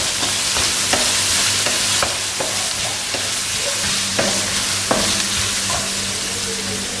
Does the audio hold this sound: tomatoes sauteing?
yes